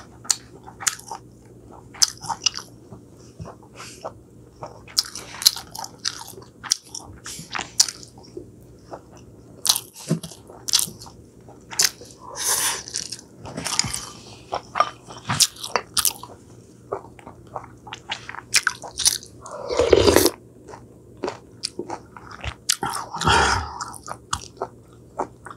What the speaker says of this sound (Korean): 고추장찌개가 오랜만에 먹어봅니다.